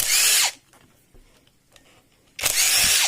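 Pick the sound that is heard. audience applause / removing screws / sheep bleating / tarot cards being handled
removing screws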